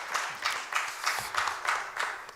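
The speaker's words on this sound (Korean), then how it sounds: "하나님께 영광의 박수 돌리겠습니다" A church congregation at a Sunday worship service claps in a steady, rhythmic beat, about two claps per second, moderately loud and close, with no talk over it.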